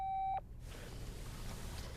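A single steady electronic voicemail beep on a telephone line, short and clear, then quiet line hiss.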